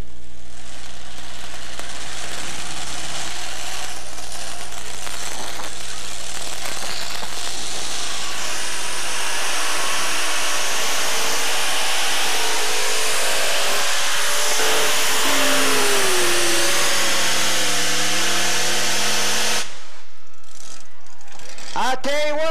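An unlimited modified pulling tractor powered by three JPI Hemi engines roars loudly and continuously at an indoor tractor pull, the engine note rising and shifting in pitch during the run before cutting off near the end.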